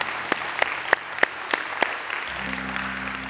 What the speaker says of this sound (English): let's give these a hand clap of